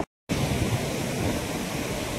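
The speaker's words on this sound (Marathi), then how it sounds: "खूप जोरात पाणी वाहतंय, खळखळ असा आवाज येतोय" The flooded Maan river rushes and gurgles in a steady, loud, dense roar of water that starts after a brief gap of silence and continues unbroken, with no voices.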